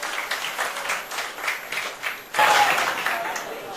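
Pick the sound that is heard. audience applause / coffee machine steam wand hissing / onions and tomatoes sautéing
audience applause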